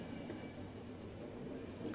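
Steady low rumble of a moving train in the video game The Final Station, a continuous droning roll with faint rhythmic clatter, unchanging over the short stretch.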